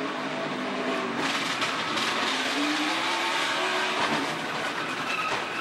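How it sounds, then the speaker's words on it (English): NASCAR Xfinity Series race car at Iowa Speedway running on a flapping flat tire, a loud continuous engine roar with rumbling, broadband road and tire noise filling the whole stretch. "You could hear that flapping already before he even hit the outside wall."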